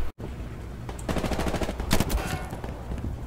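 Rapid automatic gunfire in a military shooter game, a steady rattling burst of shots after a short gap, with a louder flurry of hits in the middle and no speech.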